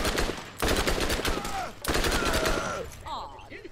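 Rapid, loud automatic gunfire from a weapon in Borderlands, sustained in two long bursts with a brief gap between them, then tapering into game effects.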